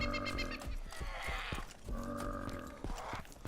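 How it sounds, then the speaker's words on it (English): Deep, rasping frog croaks much like a bullfrog's, repeated in throaty bursts over ambient background in the DayZ Breaking Point survival game. "That one sounds funny. It's almost like a bullfrog"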